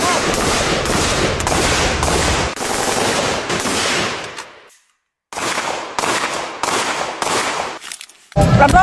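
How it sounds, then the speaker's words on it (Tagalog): Gunfire in rapid, loud bursts like machine-gun volleys; it fires repeatedly, stops briefly into near silence, then resumes in several sharp bursts. "Ba't may putukan?"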